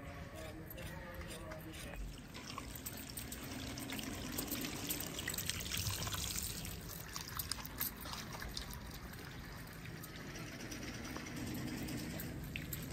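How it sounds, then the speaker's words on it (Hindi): Water pours and trickles steadily while dirt-covered potatoes are washed outdoors in a village setting, a continuous splashing stream with brief speech mixed in. "आलू को अच्छे तरीके से वॉश किया जा रहा है।"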